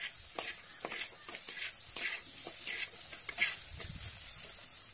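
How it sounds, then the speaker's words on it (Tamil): Chopped brinjal, five or six of them, stirred through hot oil in a clay pot for a village-style fish curry: steady close sizzling with repeated scraping stir strokes throughout. "அந்த கத்திரிக்காயை போட்டு நம்ம நல்லா மிக்ஸ் பண்ணிக்கலாம்"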